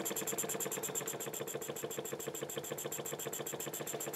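An inverted wig-wag model steam engine runs fast on compressed air, a quiet rapid even chuffing beat with hissing exhaust, steady throughout with no talk.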